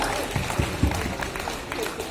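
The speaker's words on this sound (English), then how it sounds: "Please give a round of applause." Audience applause at a college innovation poster and prototype event, a steady wash of clapping from a crowd with murmured voices mixed in, sustained and fairly close throughout.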